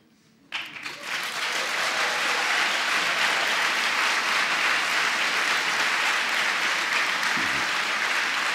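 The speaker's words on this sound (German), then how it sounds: "Applaus" An audience at a lecture on consciousness breaks into applause, starting abruptly after a brief quiet moment and continuing as a broad, even wash of clapping that holds to the end.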